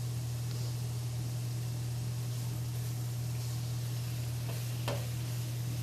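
Shrimp sizzling steadily in a hot pan alongside zucchini, with a constant frying hiss and occasional scraping clicks as the pieces are stirred and flipped; a low steady hum runs underneath throughout.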